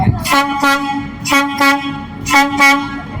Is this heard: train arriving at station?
yes